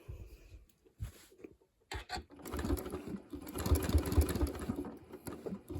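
Sewing machine stitching around traced letters on a T-shirt quilt, quiet short bursts at first, then a denser run of rapid needle ticking in the second half, close and without talk.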